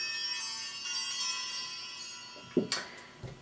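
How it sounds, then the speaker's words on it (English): A bell rings with a bright, shimmering tone that lingers and slowly fades, followed by a couple of soft knocks near the end. "create some sacred space with this beautiful bell"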